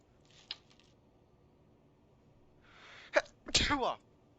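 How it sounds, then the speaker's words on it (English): A sneeze from someone with allergies during a space-game stream: a sharp burst with a short intake just before, clear and fairly close against a quiet room background with a faint click earlier. "Sorry for sneezing."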